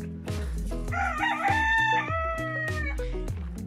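Several gamecocks crow loudly one after another at a countryside gamecock yard, their long rising calls overlapping close by, with clucking fowl in the background.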